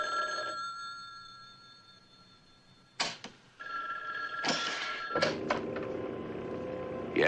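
A landline telephone bell rings in a house, sounding in short bursts with quiet gaps between, while a steady background tone sits underneath and room noise rises after the ringing.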